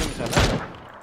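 Burst of rapid gunfire in the battle game PUBG, a short fusillade of shots at moderate distance that fades quickly.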